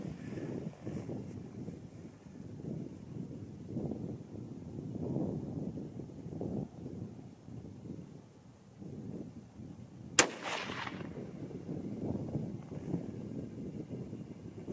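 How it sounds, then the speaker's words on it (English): A single 25-06 Remington rifle shot, firing a 100 grain Nosler bullet over RL16 powder, cracks sharp and loud outdoors, standing out against a steady rumble of wind noise. "so I'll shoot the upper target on the left"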